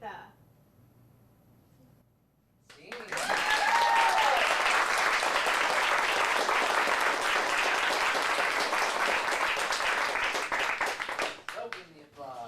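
Audience applause at an adult dramatic showcase at an acting studio swells in after a quiet pause, holding as a dense, steady wash of clapping before fading out, with faint voices underneath.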